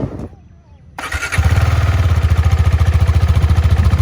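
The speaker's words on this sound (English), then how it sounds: "we are starting the engine of KTM 390 Adventure" A KTM 390 Adventure motorcycle engine cranks and fires up outdoors near a lake, then settles into a loud, rapid, even idle thrum after a brief quiet start.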